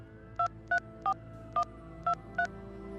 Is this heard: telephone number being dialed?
yes